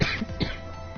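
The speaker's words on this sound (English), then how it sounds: "I've still got that cough" A single rough cough or throat clearing, close and brief, with a couple of harsh bursts.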